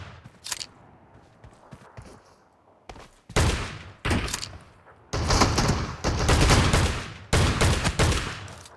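Shotgun gunfire in the mobile game PUBG Mobile, a few isolated blasts early on, then heavy repeated bursts of shooting in close succession, loud and near, with quieter handling and movement sounds between them.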